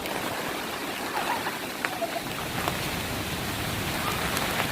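Heavy hurricane rain falls steadily as a dense, even hiss with scattered drops and patters nearby, no voices, continuous for the whole stretch.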